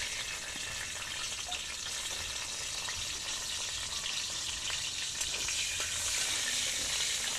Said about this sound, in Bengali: এবারে আমি রসুনগুলো ভেজে নেব।